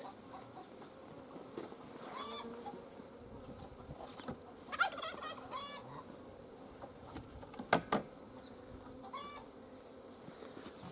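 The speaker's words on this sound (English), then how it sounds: "A lot more bees in this one." Honey bees at a hive under attack buzz quietly and continuously, with a few louder passes of single bees swelling up close before fading again.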